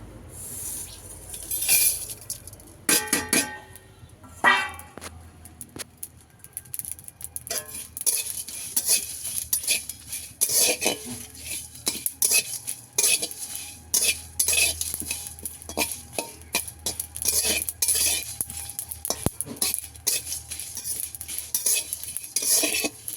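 Spices for mango pickle roasting in a pan, with frequent metal spoon scrapes and clinks against the pan over a light sizzle, close and busy throughout with no talking.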